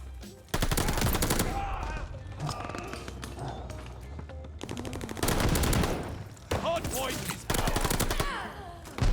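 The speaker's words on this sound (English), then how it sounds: "We got the max mobility MP40. This thing is so fun." An MP40 submachine gun in Call of Duty: Vanguard firing long rapid full-auto bursts, loud and close, separated by brief gaps, with game sounds between bursts.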